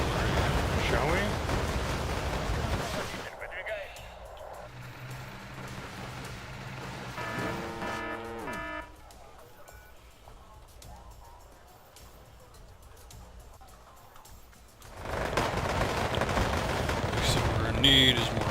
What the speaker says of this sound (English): Start firing some rocket artillery, shall we?